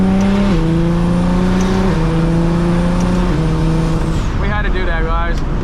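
A single-turbo BMW 335is drives along, its engine droning steadily near and loud as it shifts through gears, with a change in tone near the end.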